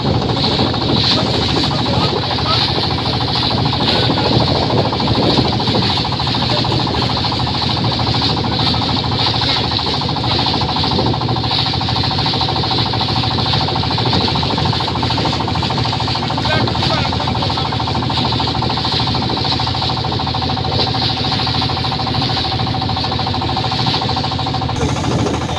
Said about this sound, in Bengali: বোট আসছে।